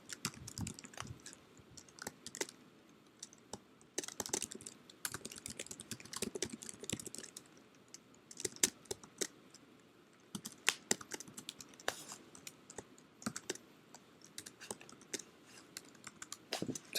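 Typing on a computer keyboard while writing a Java program: quiet, irregular bursts of clicking keys with short pauses between runs, close and alone without any talk.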